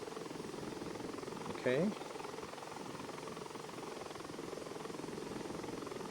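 A Bell 412 helicopter hovers at low torque during a lift-off test, its rotor and engine making a constant, heavy droning hum, with a brief spoken word over it.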